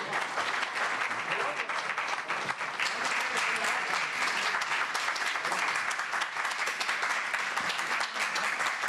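Sustained applause from an audience after a Hindi poetry reading at an evening poets' gathering, dense and even clapping throughout without a break.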